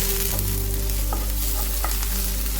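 Chopped garlic sizzles steadily in a hot pan for chicken and cheese stuffed chillies, with a few brief stirring scrapes over the constant frying hiss.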